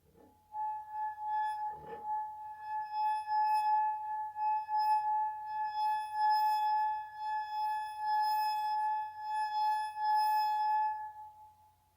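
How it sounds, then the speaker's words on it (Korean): Wine glass sung by a wet fingertip rubbing its rim, a pure sustained ringing tone with soft overtones that swells and holds steady for several seconds after a brief clink, quiet and close with no voices. "와인잔 위에 가볍게 손을 얹고 문질러 줍니다."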